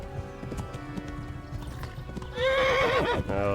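Horse hooves and a neigh in a video game: steady clip-clop footfalls at close range, then a loud, high, wavering whinny near the end, all without talk.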